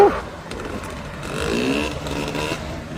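A motorcycle speeds past at a classic cars and coffee meet, a loud, rough engine roar that holds steady for a few seconds outdoors.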